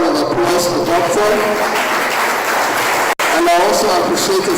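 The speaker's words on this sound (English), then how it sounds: "Please, another round of applause for Doctor." Loud, sustained applause from an induction ceremony audience of a science and technology society at the Ajimobi Resource Centre, with a voice speaking over the clapping and a brief drop near the end.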